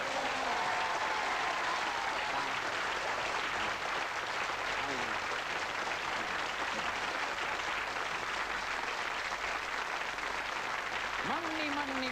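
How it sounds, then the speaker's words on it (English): A theater audience gives sustained, loud applause for a magician's assistant after a sawing-in-half illusion, dense continuous clapping with crowd noise and a few faint voices and whistles running through. "the applause is not for me, it's for Peggy"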